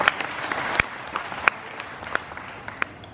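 An audience at an indoor motivational training programme gives a short burst of applause, scattered claps standing out over a softer crowd patter, moderately distant.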